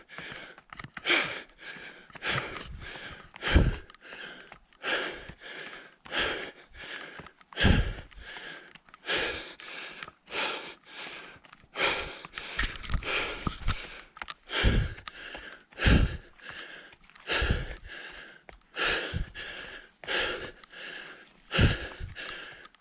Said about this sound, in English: You can now hear my breathing change. I'm at threshold right now.